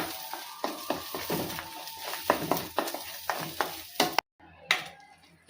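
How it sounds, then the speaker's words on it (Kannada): A spoon scrapes and stirs spice masala through a paneer gravy in a pan, giving repeated rhythmic scraping strokes over a soft sizzle, close and fairly loud, with a brief gap near the end. "ಈಗ ಚೆಂದಾಗೆ ಮಿಕ್ಸ್ ಮಾಡ್ತೀನಿ ನೋಡ್ರಿ"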